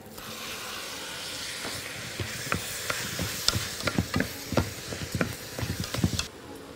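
Tomatoes go into a sizzling pan for a fish mixed grill, giving a soft frying hiss broken by a run of sharp clatters and scrapes as the pan is stirred close by.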